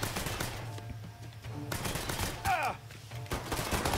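Rapid gunfire crackles in a Mafia 3 firefight, automatic bursts layered over steady low rumble and ambient game noise, with a brief whooshing effect midway.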